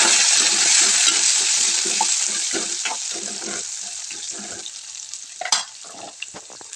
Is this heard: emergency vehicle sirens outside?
no